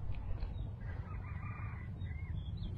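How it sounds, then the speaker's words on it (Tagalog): Wild junglefowl (labuyo) rooster crowing faintly in the distance over a low rumbling outdoor background, a single drawn-out call with no voices. "Ayun o, tilaok pa lang, sarap na pakinggan ay."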